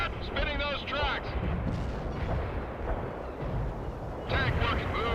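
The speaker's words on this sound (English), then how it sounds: "Wilco, fire mission received. Artillery barrage inbound." An artillery barrage in the real-time strategy game World in Conflict, heavy rumbling booms rolling continuously through the battle noise, with radio voices briefly over the top.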